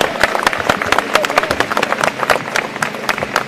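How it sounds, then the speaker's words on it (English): A crowd at a Black Lives Matter protest in London claps and cheers in sustained applause, loud and dense, with voices mixed into the noise. "Give them a round of applause"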